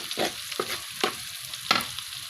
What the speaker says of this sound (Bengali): পেঁয়াজ দিয়ে হালকা একটু পেঁয়াজটা ভাজা ভাজা করে নিলাম